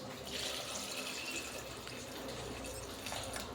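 Water poured into a pressure cooker full of chopped vegetables, a soft steady splashing trickle of liquid, quiet and close, lasting a few seconds with no talk.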